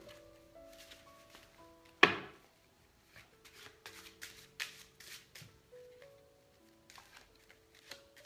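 An old, very dirty classic deck of playing cards being shuffled: a sharp riffle burst followed by a series of quick, soft papery flicks and shuffles, close by, over quiet background music.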